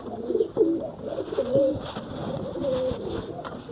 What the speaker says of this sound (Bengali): আর ভিতরে অনেক কবুতর আছে